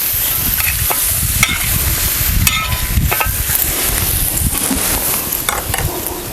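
Foraged wild greens and green chillies roasting on a hot tava griddle make a loud, continuous close-up sizzle, broken by scraping and stirring strokes from a spatula, with no talking.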